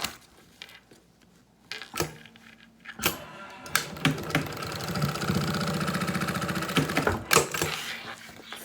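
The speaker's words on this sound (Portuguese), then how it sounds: "Vou pegar a frente do meu forro com a frente do meu forro, ó. E vou passar mais uma costura." A sewing machine stitches a seam along fabric lining for a travel pouch, starting with a few short clicks and stops, then running in a steady rapid mechanical whir for several seconds, close and fairly loud.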